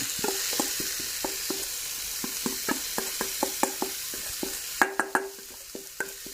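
Rice with budu chili paste and tofu skin is stir-fried in a pan, with a spatula striking and scraping in a quick, steady rhythm over a faint sizzle and a few louder knocks near the end.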